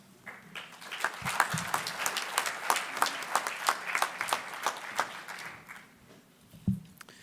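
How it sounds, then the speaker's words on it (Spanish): An audience at the inaugural conference of a seminar colloquium applauds to welcome the first counselor of the French Embassy, steady clapping at moderate loudness rising and holding for several seconds before tapering off. "Quiero que recibamos con un aplauso a Éric Lavertu"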